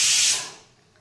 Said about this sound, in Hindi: प्रेशर कुकर रे 7टी सीटी बजावना